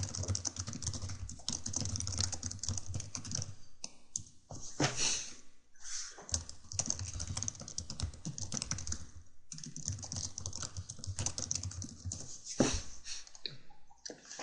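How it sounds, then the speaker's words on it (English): Rapid typing on a computer keyboard, close up, in bursts of clicking keys with short pauses between runs. "sorry, I was just typing there."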